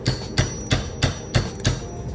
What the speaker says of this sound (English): What I'm gonna try to do is I'm gonna try to hammer this out.